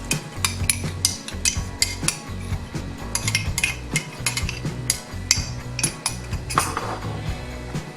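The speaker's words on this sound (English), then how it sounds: "Now we're going to add our slurry to create our gravy." A metal utensil stirs a thick mushroom gravy in a pan as slurry is worked in, with steady rhythmic scraping and clinking against the pan, close and continuous, with no talking.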